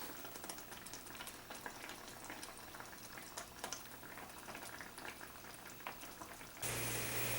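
Mushroom duxelle simmering in a pan as its liquid cooks out, a steady soft bubbling and sizzling with faint pops, close and quiet, ending in a brief louder hiss.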